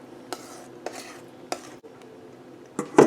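Mashed parsnips are spooned into a small green bowl: about half a dozen sharp clinks and taps of a spoon against the dish, spaced apart over a quiet background.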